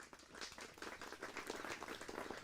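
A studio audience at a Hindi farm-programme broadcast claps in welcome, a dense, steady applause of many hands heard fairly faintly throughout, with no talk over it.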